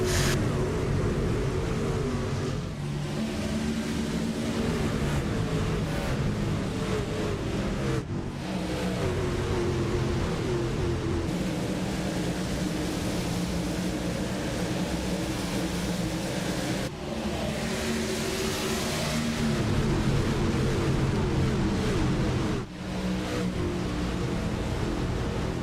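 Race trucks in the PRL Truck Series on the iRacing game roar around Darlington, engines droning and revving in a dense continuous pack, with brief dips as cars pass.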